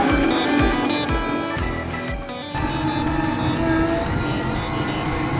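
A Toyota Stout converted to electric drive pulls away in first gear without a clutch, its motor whine and drivetrain noise swelling with rising tones, close and fairly loud.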